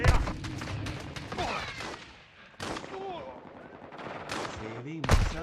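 Heavy gunfire in Call of Duty: Modern Warfare II, loud bursts of automatic fire and booming shots in rapid clusters, with a brief lull midway before more shots resume, with a voice speaking over the combat.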